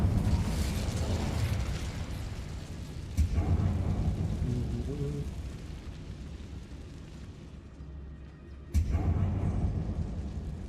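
An Incendio fire spell is cast in Hogwarts Legacy, a loud rumbling roar of flames with explosive thumps, swelling into a burst around the middle and a second sharp blast near the end.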